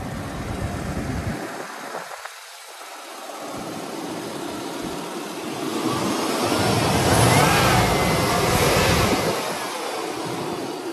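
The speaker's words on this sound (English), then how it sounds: "Will you get in and rev it up?" A 2003 Chevrolet Silverado pickup engine revs, a loud, steady roar that dips briefly and then climbs and holds a higher pitch before easing back, recorded close with no talk.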